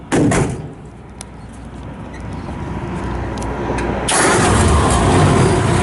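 A 1951 Ford F1 truck engine cranks and fires up after a door thud, then settles into a steady running hum that grows louder and fuller near the end.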